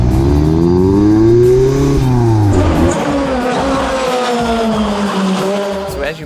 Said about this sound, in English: So as you may be able to hear, there's an IndyCar race taking place here.